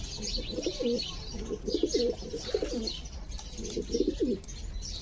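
Pigeons in a loft in Chikhli, Maharashtra, with a breeding pair sitting on eggs, give repeated soft throaty coos in rhythmic bursts, close by, over a faint background of chirps from other birds.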